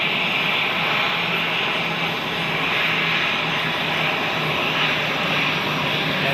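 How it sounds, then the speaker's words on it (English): A steady jet engine roar from an Aer Lingus A320 airliner arriving at Zurich Airport, loud and continuous with a faint low hum, heard from nearby without talk. "We have an Aer Lingus A320 arriving."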